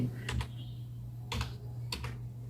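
A web address is typed on a computer keyboard in a few short clusters of quick key clicks, close and clear over a steady low electrical hum.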